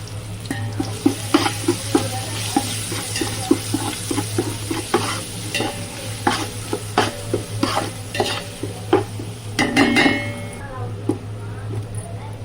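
Ginger garlic paste sizzles in hot oil in a pan with bay leaves while being stirred for a home-style biryani, with repeated clinks and scrapes of a spoon against metal over a steady low hum and continuous frying crackle.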